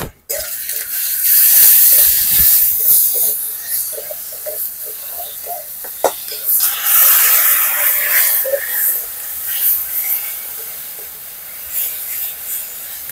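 Chilli, turmeric and salt spices sizzle and hiss in a hot pan while being stir-fried, with a steady close frying hiss and occasional scraping knocks of stirring.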